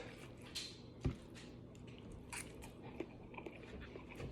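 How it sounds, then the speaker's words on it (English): Biting and chewing perico, eggs scrambled with tomatoes and green onions, heard close up as one crisp bite followed by soft, moist mouth sounds and faint smacks over a quiet room. "Now we're gonna give this a little taste test."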